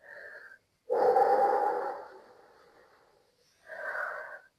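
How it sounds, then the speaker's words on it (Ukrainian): Breathing during a pilates exercise: a long, forceful breathy exhale that fades out gradually, framed by shorter breath sounds before and after, close and clear. "видих."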